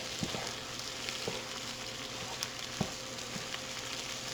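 Cajun hash browns frying in a pan as they are stirred, giving a steady soft sizzle with a few faint scrapes and clicks from the utensil, close and continuous with no talking.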